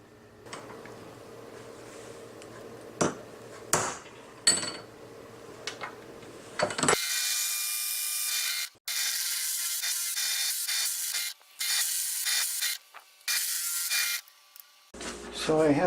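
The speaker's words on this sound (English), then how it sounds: "First we have to drill this hole." An electric drill bores a hole for a ukulele strap bracket, whining steadily for several seconds in bursts broken by short pauses, close by, after a few scattered clicks and handling knocks.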